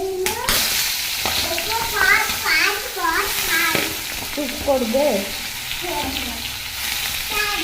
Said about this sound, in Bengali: আর এখন ভাজবো হচ্ছে আলু ভাজা